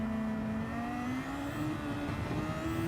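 A Super Formula race car engine in a sim racing league at the Nürburgring GP circuit, a steady close high-pitched drone slowly rising in pitch under acceleration, continuous throughout with no talk audible.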